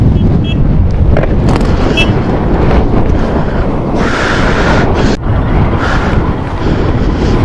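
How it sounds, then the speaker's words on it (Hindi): Strong, roaring sandstorm wind on the More Plains near Leh, Ladakh, buffets the microphone continuously, a dense rushing blast with gusty surges and no pauses. "तो सैंडस्टॉर्म आया है एकदम सॉलिड मोरे प्लेन्स के पास।"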